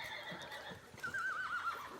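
A horse, standing slightly toed in, neighs with a wavering whinny in a stable while shifting forward a step, faint hoof scuffs under the call.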